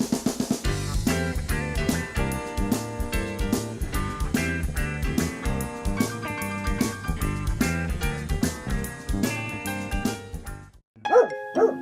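Dogs bark and yip in a rapid, rhythmic series that forms a tune, loud and close throughout. The run of barks stops near the end, then a few final barks follow after a brief gap.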